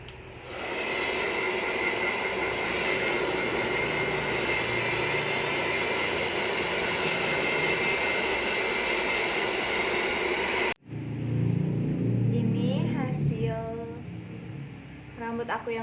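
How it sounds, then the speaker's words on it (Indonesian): A hair dryer blows steadily on freshly vitamin-treated hair, a loud continuous airy whoosh that runs unbroken for most of the span, then cuts off abruptly, leaving someone speaking close by. "kita hair dryer lagi sampai kering."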